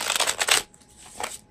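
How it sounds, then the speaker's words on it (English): A deck of Animal Wise tarot cards is shuffled up close in quick papery riffles for about half a second, then a pause before a briefer second shuffle. "So I'm shuffling a supportive card here."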